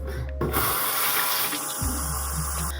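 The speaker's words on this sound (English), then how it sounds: "let me wash my face" Tap water runs steadily into a sink while someone washes their face at home, a close, continuous splashing stream with brief shifts as hands move under it, without talk.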